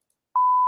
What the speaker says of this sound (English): I got my beep button ready.